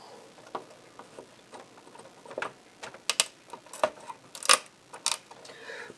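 A flat blade prying a chip out of a ROM socket in an Amiga 2000 gives small, sharp clicks and scraping ticks, close and irregular, with a few louder snaps toward the end.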